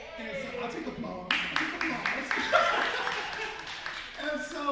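A small audience at a Juneteenth poetry gathering breaks into scattered applause with some chuckling and laughter, fairly close and moderate in volume, rising after a spoken line and tapering off.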